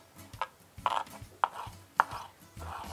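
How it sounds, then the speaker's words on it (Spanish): Fresh parsley is chopped with a knife on a board, a few close, sharp knife strikes at an irregular pace over a low, quiet background hum. "vamos a picar el perejil para agregarlo"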